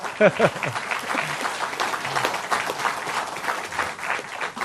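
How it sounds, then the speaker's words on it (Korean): Crowd at a Korean political party leadership election speech breaks into applause, a dense, even patter of many hands clapping continuously, with a few voices mixed in. "이럴 때 박수 한번 치시는 거예요"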